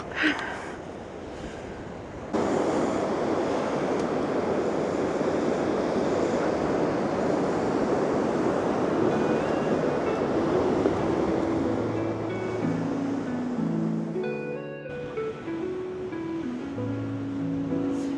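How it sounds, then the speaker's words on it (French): Steady roar of ocean surf at Palomares, Spain, with wind buffeting the microphone; a low droning hum, like an engine or distant aircraft, rises toward the end. "il y a des sacrées vagues"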